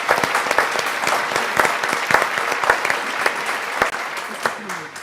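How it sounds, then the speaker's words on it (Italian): Enthusiastic studio audience applause on an Italian television show, dense clapping with a few sharp claps standing out, steady and close, with some voices mixed in. "una mezz'oretta di applausi"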